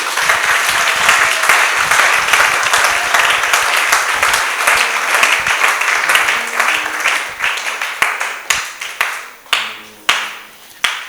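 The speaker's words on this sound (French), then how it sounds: "Est-ce qu'on peut acclamer le Seigneur?" A church congregation applauding to acclaim the Lord, dense loud clapping from many people that thins toward the end into a few scattered, separate claps.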